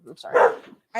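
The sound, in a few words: dog barking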